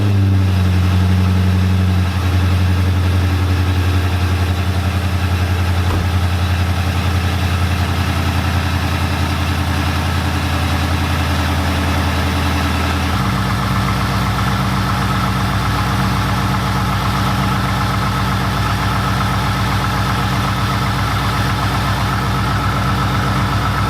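A Corvette V8 with a ProCharger supercharger, heard close and loud as it fires up and settles into a steady, rumbling idle. Partway through the tone shifts as the idle drops into a lower, lumpier beat.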